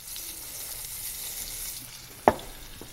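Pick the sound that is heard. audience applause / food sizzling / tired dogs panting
food sizzling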